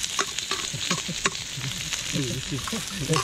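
Ginger and onion sizzle in hot oil in a pan, a steady close frying hiss with stirring clatter and bursts of scraping through the clip.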